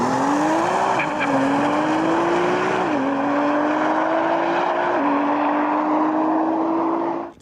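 A heavily modified Nissan GT-R with billet shift forks, Nismo wing and forged wheels on Toyo R888 tyres launches hard down a runway, its engine climbing through loud, rising gear pulls with clear drops at each shift, continuous and close.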